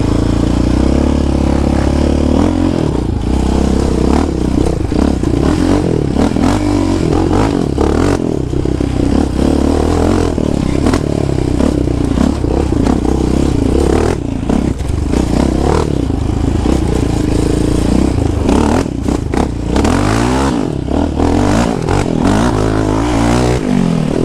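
A Yamaha Raptor 700R ATV engine roars and revs hard on a hill climb at an offroad park, loud and close with fluctuating throttle, clattering and scraping over rough ground.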